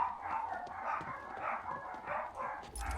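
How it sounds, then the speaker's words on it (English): Dogs bark repeatedly in the distance, an irregular series of muffled barks and yowls heard through a room. "let me see what exactly the dogs are barking about"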